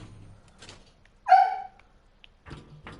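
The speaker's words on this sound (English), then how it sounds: "The dog is starting to bark." A female dog indoors gives a single short, loud bark near the middle, close by. Faint thuds and rustles come before and after it, with no talking.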